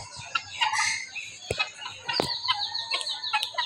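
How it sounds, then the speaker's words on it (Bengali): Domestic turkeys and guinea fowl forage around a yard, giving repeated clucks and sharp, scratchy calls at close range, with a few abrupt clicks between them and no talking. "আমার টার্কি মুরগি এবং তিতি মুরগি দেখাবো"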